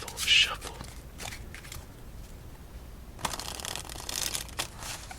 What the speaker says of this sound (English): this deck is just about ready after one more good riffle shuffle